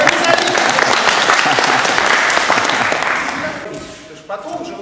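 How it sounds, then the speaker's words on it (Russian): Enthusiastic applause from a jujitsu and kempo seminar audience, dense continuous clapping that holds strong for about three seconds, then thins and fades toward the end. "Бурные аплодисменты."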